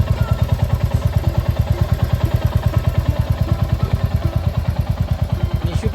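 Royal Enfield Bullet motorcycle riding close by, its engine pounding out a loud, even, rapid thump-thump rhythm throughout with light rattling on top.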